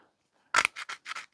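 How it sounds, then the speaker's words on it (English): Old gardening pruners, or secateurs, from a shed clean-out snip several times: one sharp, loud first cut followed by four quicker, crisp metallic snaps close by, with no talking. "some gardening pruners or secateurs"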